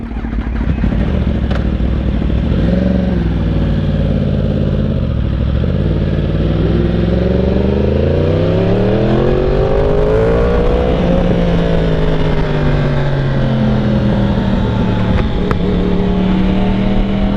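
A Kawasaki Ninja H2 fitted with an aftermarket exhaust (Akrapovic or Brock's Performance) revs loudly and close, its engine note climbing and dropping through several throttle blips over a continuous idle rumble, with no voices.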